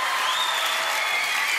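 Studio audience applause on a French television show, dense and loud continuous clapping filling the short moment without pause.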